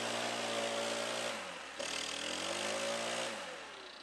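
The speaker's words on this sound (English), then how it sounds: "This is a Stihl BR 800C Magnum leaf blower" A Stihl BR 800C Magnum backpack leaf blower runs loud and close, its steady engine drone dipping briefly midway before revving back up, with no talk.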